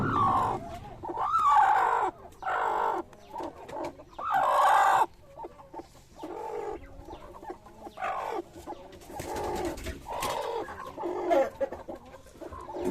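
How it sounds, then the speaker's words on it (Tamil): Several brooding hens cluck steadily in a farm chicken coop, with repeated nearby clucks and murmuring calls in irregular bursts and no talk over them. "இந்த கோழியெல்லாம் இதெல்லாம் அடை வச்ச கோழி."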